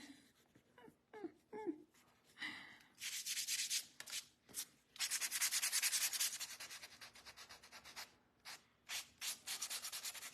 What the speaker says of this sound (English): It cleans up really nice with a little sandpaper with the crayon